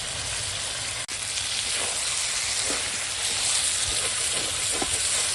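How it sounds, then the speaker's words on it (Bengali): Chicken curry with potatoes sizzles steadily in a pot over a wood fire, with a continuous close frying hiss broken by occasional soft stirring scrapes and small pops. "দেখো কিভাবে কষাচ্ছি, এরকম কাঠের জালে একদম কষিয়ে কষিয়ে রান্না করছি।"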